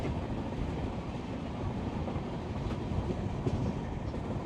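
Steady rumble of an Indian passenger train rolling along the rails, heard from inside the carriage, with continuous low-frequency rattle and occasional faint clacks, fairly quiet and unbroken with no voices.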